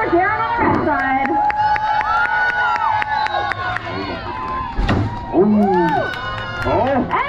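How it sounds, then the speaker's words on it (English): A crowd cheers and shouts at a live lumberjack show at the PNE, with children's high voices and whoops filling a steady, loud roar of excited spectators throughout. "And who's cheering for Darren on the red side?"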